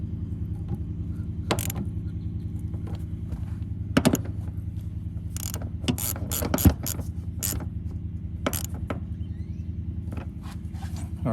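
Ratchet tightening the seat jacker fasteners inside a Toyota Tacoma, a series of short metallic clicking bursts spread over several seconds above a steady low hum, close up with no talking.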